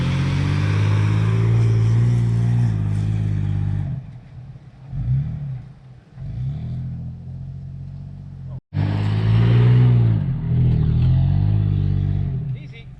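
An off-road vehicle grinds over rough desert terrain in the Empty Quarter, its engine rumbling and revving loudly up close with shifting load, while voices talk over the noise.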